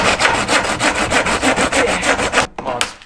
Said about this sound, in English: Give her a nice little sand, you know, around the edges.